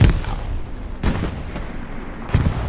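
Artillery shells burst close by on the objective in a World War II shooter game: three heavy booming impacts about a second apart, each with a rumbling tail over steady battlefield noise.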